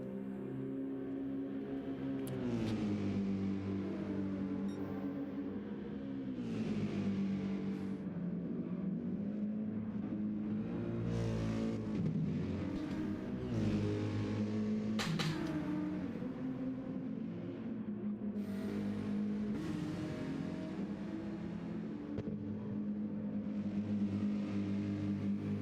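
Gr3 race cars lapping Monza in a racing video game, a steady dense engine drone with shifting revs and occasional whooshes of cars passing, loud and continuous with no talk.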